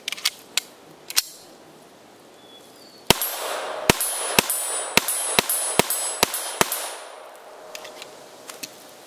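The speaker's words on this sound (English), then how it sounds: "We're shooting at about 22, 23 yards so far, and it seems to be doing pretty well." A series of sharp gunshots from a Norinco TT Olympia .22 pistol fired outdoors at about 22 yards: a few spaced shots, then a rapid string of around eight close, loud cracks, then a few more scattered shots.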